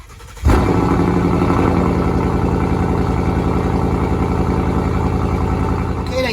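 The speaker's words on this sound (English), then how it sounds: "So we have nice S550 Mustang. That's what you've just heard." A Ford Mustang S550 engine fires up abruptly and settles into a loud, rumbling idle, a dense, throbbing low growl that holds steady for several seconds before a brief change right at the end.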